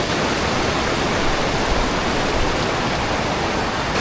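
River rushing beneath a wooden boardwalk near Kaindy Lake, a steady, loud, broadband roar of flowing water with no pauses or voices.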